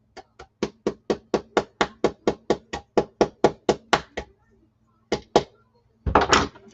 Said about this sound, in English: so just get the hammer